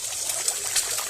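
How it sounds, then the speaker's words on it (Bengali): Two eggs hit hot oil in a pan for a Bengali tarka, giving a brief, steady bright sizzle and crackle with a couple of sharper spits, with no voices over it. "তেলটা গরম হয়ে গেছে, দিয়ে দিচ্ছি এখানে 2টো ডিম। ডিমগুলো ভেজে নেব।"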